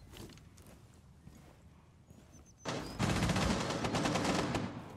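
Close automatic gunfire during a Rainbow Six Siege match, starting as scattered shots and then becoming a loud, continuous rapid burst that lasts most of the final two seconds.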